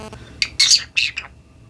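A pet bird named Stevie lets out a few short, bright squawks and chirps close by, three or four bursts in under two seconds with brief gaps between them.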